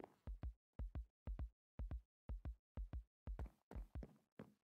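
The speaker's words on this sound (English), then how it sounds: "There is someone upstairs because there was the sound of heartbeats" Heartbeat effect in a hide-and-seek video game: a loud, regular lub-dub thump repeating about every half second, nine or ten beats in a row with silence between, no talking.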